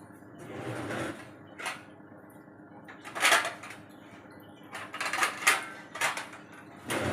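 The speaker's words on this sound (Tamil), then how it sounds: "இப்போ கொஞ்சம் தட்டு போட்டு மூடணும்" Metal clinks and scrapes as a metal plate is set over a cooking pot, a few clattering knocks close by with a low steady background hum.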